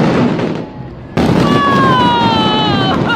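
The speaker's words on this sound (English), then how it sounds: "This is the best firework show ever created." A fireworks show with loud, continuous crackling bursts filling the air, a brief dip in the middle, then a rising whistle over the ongoing explosions, close and dense throughout.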